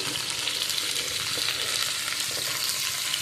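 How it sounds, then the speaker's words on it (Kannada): Fennel seeds frying in oil with other whole spices, a dense steady sizzle at moderate level with faint stirring ticks. "ಸ್ವಲ್ಪ ಸೊಂಪು ಇಷ್ಟಾಗಿ ಫ್ರೈ ಮಾಡುವ"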